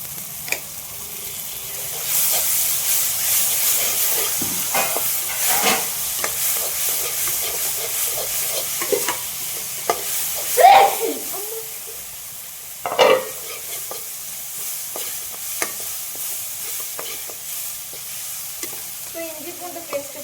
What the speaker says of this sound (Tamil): இஞ்சி பூண்டு பேஸ்ட்டு கொஞ்சோண்டு ஆட் பண்ணிக்கிறேன்